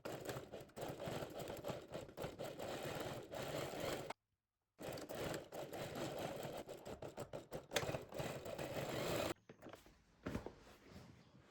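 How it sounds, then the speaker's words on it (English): Sewing machine stitching the corner of a quilted tote bag with a 1 cm seam allowance; steady mechanical whirring runs in two long bursts separated by a short pause, then stops into quieter handling noise. "sew with 1 centimeter seam allowance"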